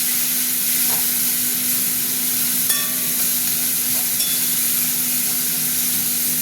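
Onion and tomato fry together in a pan: a close, steady, even sizzle with a constant hiss and a low background hum, plus a couple of faint stirring clinks and no speech.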